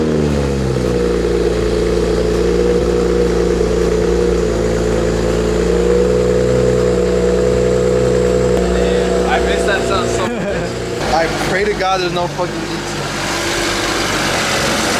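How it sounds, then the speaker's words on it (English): A BMW 335i engine runs after a cold start following water pump replacement, with a steady loud idle that fills the whole stretch and a few quick revs near the end, while someone talks over it. "this is gonna be like a cold start for what, like 2 weeks?"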